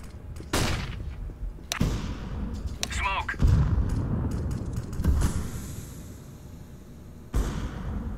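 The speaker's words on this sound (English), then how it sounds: "Flashbang." Sharp bangs and gunfire crack through a CS:GO round at the LEM Office map, several loud bursts spread across the clip, including a flashbang detonation amid other clatter and effects.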